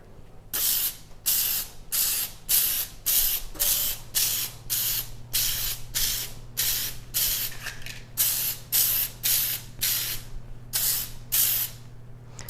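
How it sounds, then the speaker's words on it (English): Repeated bursts of nonstick aerosol cooking spray into a cupcake pan, about a dozen short hissing sprays in a steady rhythm, close by with a low hum underneath. "spray it with a little nonstick spray"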